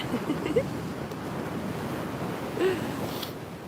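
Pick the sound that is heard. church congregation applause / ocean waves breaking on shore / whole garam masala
ocean waves breaking on shore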